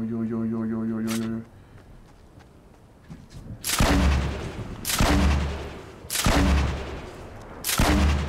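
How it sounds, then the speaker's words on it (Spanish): Gunfire erupts between players in a Fortnite Chapter 3 match: after a brief tonal stretch, four heavy, booming shots land about a second apart, loud and close, each with a short decaying tail. "Hay unos compas que se están disparando por aquí"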